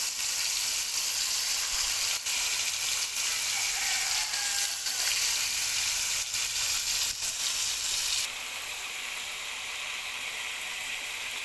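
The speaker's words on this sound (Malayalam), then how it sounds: "അപ്പോൾ ചിക്കനൊക്കെ ചട്ടിയിലിട്ടിട്ടുണ്ട്. ഇനി അതിൽ കിടന്ന് പൊരിച്ചിട്ടോ വേവട്ടെ." Chicken fries in a pan with a steady, close, crackling sizzle that runs unbroken and then drops slightly softer near the end. No voices are heard.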